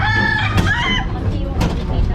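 A chicken crows with harmonic, drawn-out calls over a rumbling background, heard up close and fairly loud.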